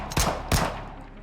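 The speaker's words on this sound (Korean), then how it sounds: "총소리?" Two sharp gunshots about a third of a second apart ring out in a video game, NIKKE, loud and close, each trailing off in a short echoing decay, with no talking.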